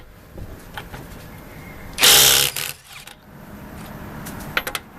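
A Milwaukee M18 Fuel impact driver on mode 4 with a 7/8 deep socket hammers a lug nut torqued to 140 foot-pounds off a 2012 Camaro: one loud, close burst of about half a second, a brief rattle after it, then quiet shop ambience.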